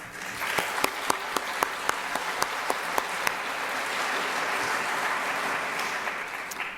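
Audience at a nursing graduation convocation and pinning ceremony claps steadily, with a few sharp individual claps standing out early before the applause settles into a dense, even patter. It sounds moderately distant and holds for about seven seconds.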